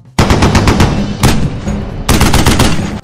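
Minigun fire from turrets in the ARK survival video game, loud, rapid bursts of continuous shots in three long volleys with brief gaps between, close and dominant without speech.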